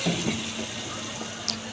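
Hot water pours steadily in a continuous gentle rush into a pan of cut eggplant, with a faint clink near the end.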